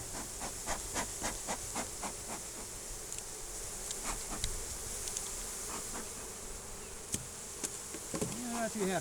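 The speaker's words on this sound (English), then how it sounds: "Oh, a lot of bees up in the top here." Dense, steady buzzing of many bees inside a beehive during an early spring hive check in Mississippi, continuous and close throughout, with occasional taps and knocks from handling the hive.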